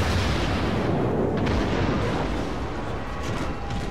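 Naval guns of the Japanese cruiser Chikuma firing in World of Warships, a dense, continuous rumble of heavy booming blasts and explosions that stays loud throughout, with no voices.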